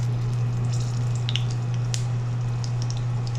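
Green chilies sizzling in hot oil and ghee give a continuous wet fry with scattered small pops and crackles over a steady low electrical hum, with no talking.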